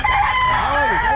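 An Albany gamefowl rooster crows once, loud and close, its call rising and falling over a steady background hum of other birds.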